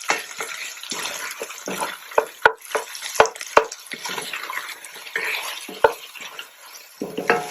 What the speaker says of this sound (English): I'm going to add in my onion. And I'm going to fry this up a little.